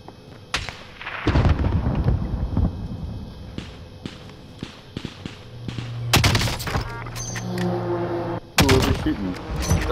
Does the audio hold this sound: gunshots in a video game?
yes